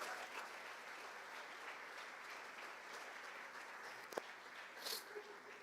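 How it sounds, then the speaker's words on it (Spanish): Applause from a church congregation during a sermon, a faint, distant, even wash of clapping that holds steady throughout, with a brief sharp knock partway through. "Dale un fuerte aplauso a la iglesia de Cristo Jesús."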